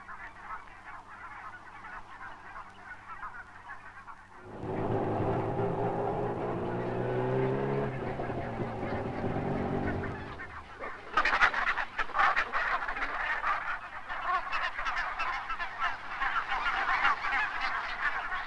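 Barnacle geese (Branta leucopsis) honking as a dense flock, with a sustained chorus of overlapping calls that swells in the middle and grows brighter and busier toward the end, steady and fairly close throughout.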